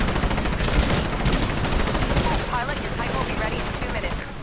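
Rapid automatic gunfire from a gun in the video game Titanfall rattles loudly and without a break, layered with game effects and brief voices.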